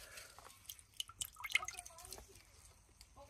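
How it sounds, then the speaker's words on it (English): Water drips and trickles quietly from a grout sponge being wrung out by hand, with a few soft squishes and scattered close droplets, faint overall. "So now I have my sponge side and I'm going to wring that out"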